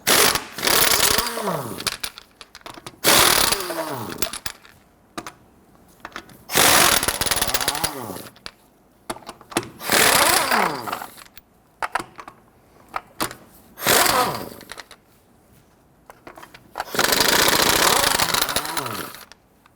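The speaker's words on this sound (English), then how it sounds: "Using a 21mm socket, go ahead, loosen and remove your lug nuts." Lug nuts come off a Nissan Frontier front wheel with a 21mm socket: several loud, rattling mechanical bursts separated by short pauses, close by.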